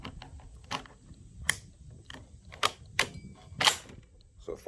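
Sharp, loud rifle reports from an M1 Garand firing old, dirty ammunition, about five spaced cracks over a few seconds with quieter clicks and handling noise between them, heard close.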